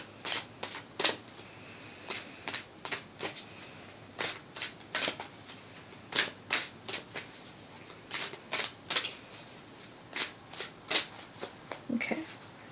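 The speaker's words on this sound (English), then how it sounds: "But I'll leave it in there and just shuffle a little bit more." Energy Oracle cards are shuffled by hand, a close series of short riffling flutters in irregular bursts with quiet pauses between, no talk.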